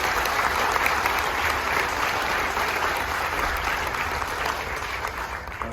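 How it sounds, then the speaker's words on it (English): An audience aboard a Carnival Magic cruise ship at a military appreciation gathering applauds the Space Force: dense, steady clapping that stays loud for the whole stretch and eases slightly toward the end. "If we can give a huge round of applause for our Space Force."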